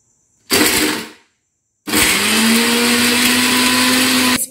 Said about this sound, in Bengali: এগুলো আমি একটা পেস্ট করে নেব মিক্সিতে